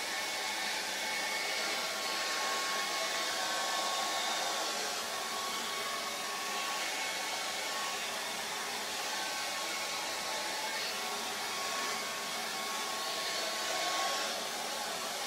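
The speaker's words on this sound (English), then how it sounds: "and then we use an air dryer" A hand-held air dryer blowing steadily on wet acrylic paint, a loud, continuous whooshing roar that runs unbroken without any talk.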